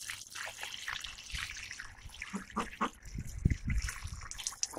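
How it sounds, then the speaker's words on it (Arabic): Water trickles and drips out through the drainage hole of a plant pot, a faint, uneven dribble with soft splashy bursts that grow a little busier toward the end. "هنبص بقى المية بدأت تنزل منين؟ من فتحة الصرف دي، فتحة الصرف التانية"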